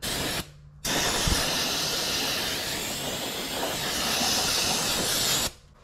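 An aerosol cleaner sprays onto a carburetor fuel fitting in one long, loud, close hiss lasting about five seconds, with a short pause just after it begins and a small clunk, and no talk.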